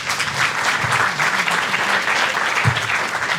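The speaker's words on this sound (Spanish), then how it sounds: "No sin antes darle un fuerte aplauso a Carol." Una sala aplaude a la ponente Carol al cierre de una conferencia magistral sobre autismo; dense, loud, sustained applause from a sizable audience, even throughout with a faint murmur underneath.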